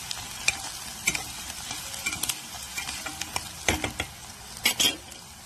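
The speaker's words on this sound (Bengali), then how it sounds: "ভালো করে নাড়াচাড়া করে হালকা ব্রাউন ব্রাউন হয়ে গেলে পেঁয়াজটা তার মধ্যে চিকেনগুলো দেবো" Onions and curry leaves frying in a pan for Hyderabadi green chicken, stirred with a spatula that scrapes and clinks against the metal every second or so over a low continuous sizzle.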